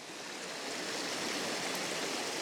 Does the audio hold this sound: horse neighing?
no